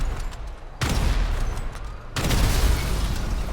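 Explosive sniper rounds fired in a video game, heard as two loud broadband blasts that each leave a dense roaring rumble and crackle filling the rest of the clip, close and without speech.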